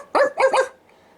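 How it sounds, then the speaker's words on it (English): Three quick barks from a cartoon dog, close and loud in a rapid burst, then silence. "Pluto barked at the tree."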